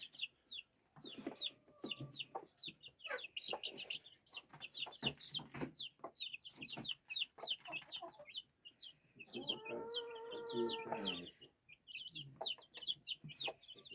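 Lots of small chicks cheep and peep rapidly and nonstop nearby, with a lower, drawn-out fowl call rising briefly in the middle.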